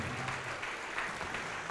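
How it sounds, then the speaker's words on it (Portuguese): A church congregation claps together in praise, a steady, dense wash of applause from a crowd that fills the whole moment without pause or speech. "Vamos aplaudir ao nome de Jesus."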